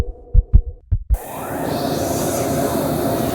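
A pounding heartbeat effect in a dark horror scene: four heavy low thumps in a quick, uneven rhythm, then a steady droning rumble takes over.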